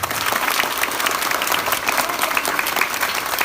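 Loud, dense applause from a school audience, many hands clapping rapidly and continuously at close range with no pause.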